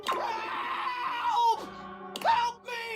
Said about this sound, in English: your inspection is cut short by his disturbing screams